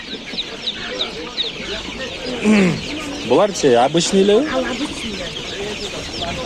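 Chickens, including Kuchinsky chicks, cluck and chatter at a busy poultry market in Bishkek, with people talking nearby over the steady background noise.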